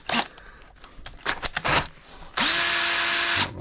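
A power drill spins engine valves to lap them and check that they run straight, with short bursts followed by a steady, loud whine lasting about a second near the end.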